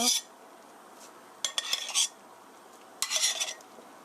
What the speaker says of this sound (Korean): 건져서 넣어주세요. 소스에 넣어주세요.